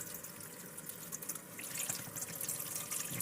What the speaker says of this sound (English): hot water flowing through my shower